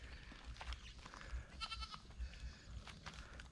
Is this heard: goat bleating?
yes